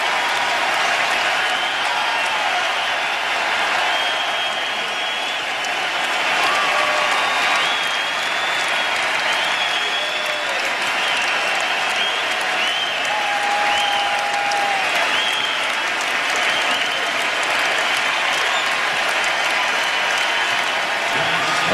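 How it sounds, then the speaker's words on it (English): A Philadelphia crowd at a 2003 NBA game between the Washington Wizards and the Philadelphia Sixers gives Michael Jordan a long, sustained ovation, loud continuous applause and cheering filling the arena. "A 3-minute ovation following a free throw."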